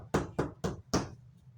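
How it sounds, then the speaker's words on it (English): Four loud, sharp knocks on a door in quick succession, evenly spaced and close by, each with a short ring-off, followed by quiet room tone. "5 loud knocks were heard in the door."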